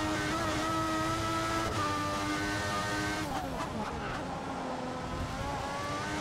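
Formula 1 car engine in the racing game F1 2014 at the Australian Grand Prix in Melbourne, a loud, sustained high-pitched whine with the tone sliding down and up through gear changes, close and unbroken.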